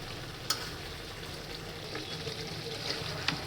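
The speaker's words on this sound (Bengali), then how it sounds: "এখন ভালো করে কষাবো একে।" Arum (ol) stalks stir-frying in a pan, a faint steady sizzle with soft scraping and a few light clicks of the utensil, quiet and continuous throughout.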